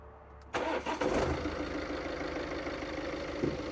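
A BMW 4 Series with the B47 engine and a cold air intake cranks briefly and catches, then settles into a steady, close idle with no talking.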